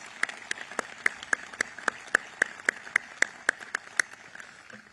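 An audience at a military change-of-command ceremony for Southern Command in Doral applauds two young men, with a wash of clapping under a string of sharp, evenly spaced claps.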